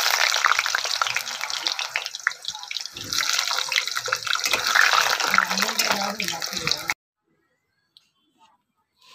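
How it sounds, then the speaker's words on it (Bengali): Potato pieces frying in hot oil for a jackfruit curry give a loud, steady, crackling sizzle for about seven seconds, then cut off abruptly into near silence. "এই যে আমি আলুটা একটু ভেজে নিই তেলে"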